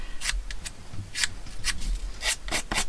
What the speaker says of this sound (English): Then I'm going to rough it up a little with my scissors on the edge